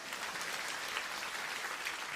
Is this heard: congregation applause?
yes